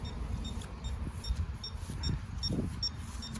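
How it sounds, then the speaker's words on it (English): Short, faint electronic beeps repeat in a quick, regular rhythm over a low background rumble. "It'll start to beep as I begin to approach my known starting point"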